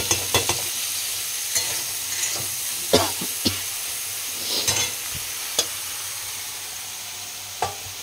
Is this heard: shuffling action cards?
no